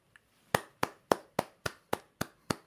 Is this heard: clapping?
yes